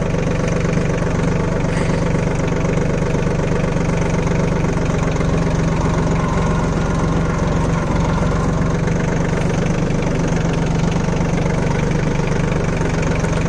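A Swaraj Target 625 4WD mini tractor engine idles continuously and loudly nearby, a dense diesel chug with a steady knocking rhythm that holds unchanged throughout, with no talking.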